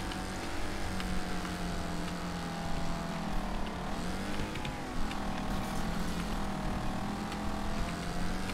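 A damaged race car engine in the racing game Wreckfest drones loud and constant, its pitch rising and dipping through the laps with continuous mechanical roar and no talk.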